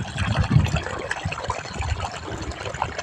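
Irrigation water released from a tap and running along a furrow in an onion field, a continuous close trickling and gushing flow with no talking.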